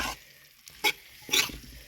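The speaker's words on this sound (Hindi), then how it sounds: "इसको हम अच्छे से मिक्स कर लेंगे," A few quick scraping strokes stir spices through a hot pan, with a soft sizzle between them, while cooking a quince apple curry; close, brief and alone.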